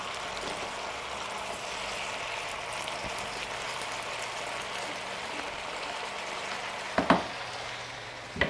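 Pork, pineapple and capsicum stir frying in a pan give a steady, even sizzle throughout, with a couple of brief utensil clatters near the end.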